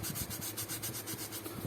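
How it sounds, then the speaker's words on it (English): Fine 600-grit sandpaper rubbed over scuffs on Fendi shoes during a restoration, making a steady run of close, rhythmic rasping strokes with no talk. "I need to sand it"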